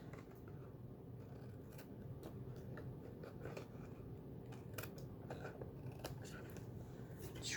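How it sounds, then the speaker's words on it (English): Quiet snipping and crisp cutting clicks from scissors trimming paper craft pieces, irregular and close, over a low rumbling background hum. "I'm going to flip it over on the back now and grab my scissors"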